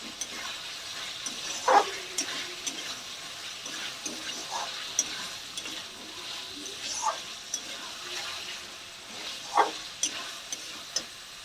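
Spice masala for a mutton curry is stir-fried in oil, giving a soft, steady sizzling hiss. Occasional scrapes and knocks of a spoon against the pan rise above it at irregular intervals.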